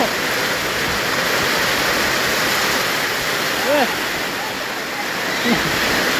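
Heavy rain pours down as floodwater rushes, making a loud, steady broadband roar throughout, with a voice briefly heard under the noise.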